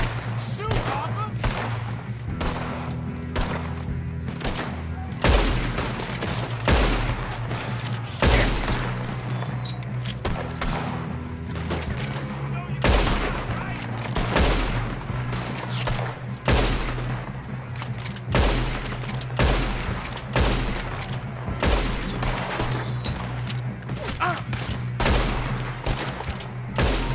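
Rapid gunfire in the Red Dead Redemption 2 game crackles through a long firefight, with dense volleys and scattered single shots over a low rumble, while voices shout now and then.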